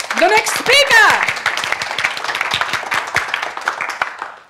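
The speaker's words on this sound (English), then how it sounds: "Ladies and gentlemen, a loud round of applause" Audience applause for the next speaker at a talk, a dense burst of clapping from a crowd that stays loud and steady, with some voices and cheers rising over it at the start.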